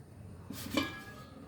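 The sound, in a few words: covering the steaming pot holding the caramel pudding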